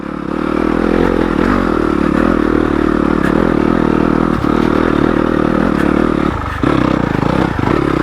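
A stock Yamaha YZ250FX dirt bike climbs a steep, loose rocky section in second gear, its engine droning loud and close under load, with rock clatter and scrapes and brief dips in throttle.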